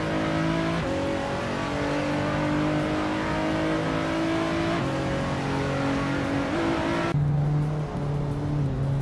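Race cars accelerating and overtaking, loud engines revving and climbing through gears with abrupt shifts, steady and close, no speech.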